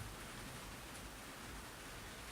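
Rain falls steadily outside, a soft, even wash of hiss that stays faint and unbroken throughout, with no voices.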